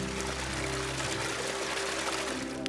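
Water pours and trickles steadily from a trail water source, a continuous close splashing flow filling the whole moment with no voices.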